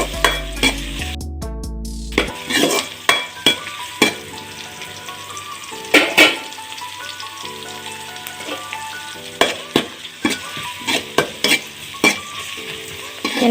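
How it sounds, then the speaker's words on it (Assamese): Onion, ginger and garlic pieces fry loudly in a pan, a steady sizzle broken by repeated sharp scrapes and clinks of stirring, with a louder burst of hissing near the start. "আৰু ইয়াতে দি দিম মই পিঁয়াজ, আদা, নহৰু টুকুৰাকেইটা। সেইখিনি এতিয়া মই ভালদৰে ভাজি ল'ম।"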